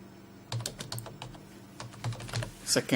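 Keys typed on a computer keyboard while filling in form fields, a sparse run of separate clicks and short bursts, fairly close and quiet, ending in a quicker flurry.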